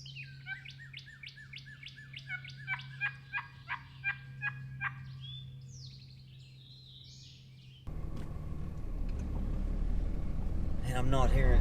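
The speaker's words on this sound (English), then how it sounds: "He gobbled another time or two there." A wild turkey gobbles in a series of rapid, rattling calls, fairly distant in open public hunting land, followed by a stretch of louder noisy rustling at close range.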